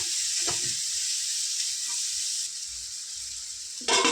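Tomatoes for paneer gongura curry frying in a pan, giving off a steady, close sizzle and hiss that runs throughout with little change, broken only by a faint stirring knock early on and a louder burst at the very end.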